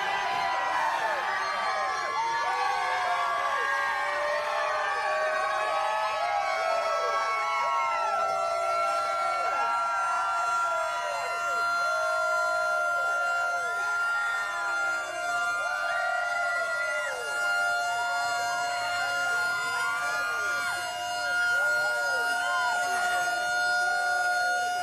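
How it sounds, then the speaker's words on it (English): A loud siren wails continuously at the Dawsonville pool room after a hometown win in the 2022 Quaker State 400, its rising and falling tones layered over a cheering crowd, sustained for the full stretch without pause. "the siren goes off at the Dawsonville pool room"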